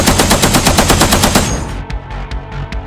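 Rapid automatic cannon fire from an IFV's quad gun in a tabletop battle game, a dense loud stream of shots for about a second and a half, then several scattered sharper single bursts trailing off.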